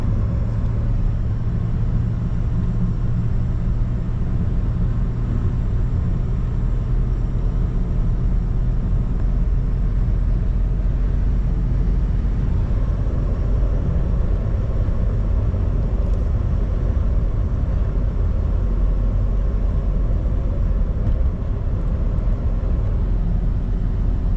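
A BMW E39 523i, fitted to run on gas, driving along at a steady pace: a low, constant engine and road rumble fills the cabin with no clear changes in pitch and no talking.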